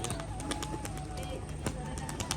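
Pigeons coo softly in a low, murmuring rhythm, mixed with flapping and shuffling sounds close by.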